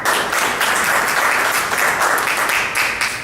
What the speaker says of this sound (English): So please give everybody a great round of applause for all the folks that are running